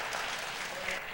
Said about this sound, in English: We don't need applause at this point in time.